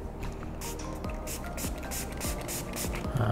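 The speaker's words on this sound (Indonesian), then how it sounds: "Kita semprotkan dulu." Water spritzed from a spray bottle onto Premier screwdrivers and a bare hand, heard as a run of short hissing bursts in an uneven rhythm, close and moderately loud, with no talking.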